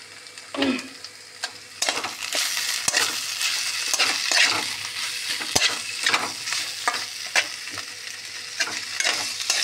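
Potatoes tossed with coriander leaves and a little turmeric are stirred through a frying pan, a steady sizzle broken by repeated scraping strokes of the spoon, close and alone without any voices.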